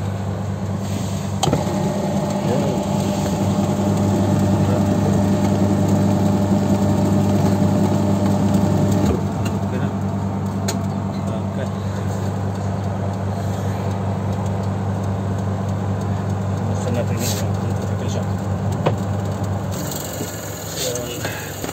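A spinner motor runs during final testing, a steady loud mechanical hum with strong low tones and faint ratcheting clicks, continuous for about twenty seconds before shifting near the end.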